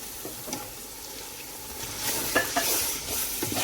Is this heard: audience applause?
no